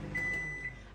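A microwave oven steaming acorn squash gives a faint, steady electric hum with a thin high whine, quiet and close, lasting under a second.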